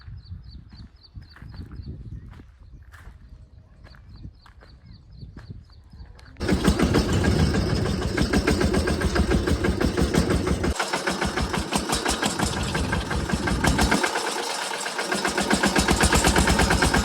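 A farm water pump motor on a cabbage field starts up suddenly after several seconds of quiet rural background, then runs loud and steady with a dense rattling drone that dips briefly twice.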